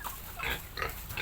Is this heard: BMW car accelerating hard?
no